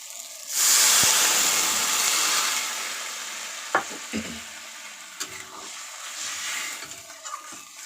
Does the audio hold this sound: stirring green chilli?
yes